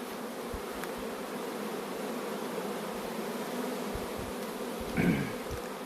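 A dense, steady drone of many honeybees buzzing close by at the hive, continuous throughout with a slight swell near the end.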